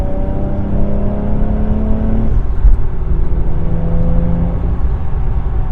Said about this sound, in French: On entend bien la dump valve là